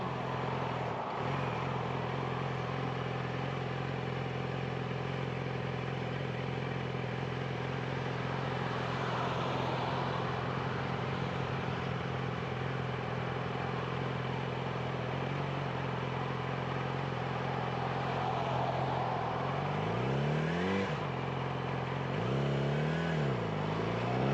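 Yamaha R6 sport motorcycle riding on a road, a steady engine drone with wind rush for most of the ride, then rising and falling revs as it accelerates and shifts near the end; no talking.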